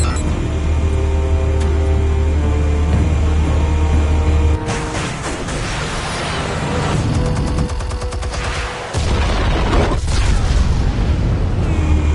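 Explosives detonate in a Batman video game, heavy booming blasts with rumbling low end and crackling debris, loud and close, breaking off briefly before another sustained roar.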